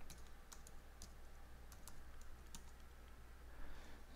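Typing a command on a computer keyboard, a quick irregular run of faint clicky keystrokes close by over a quiet background hum, with no talk.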